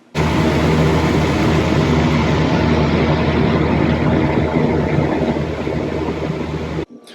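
Fire Maple Ultralight HX backpacking stove burning with no windscreen in an 8 mph wind: a loud, steady roaring rush held for about seven seconds, cutting off abruptly near the end.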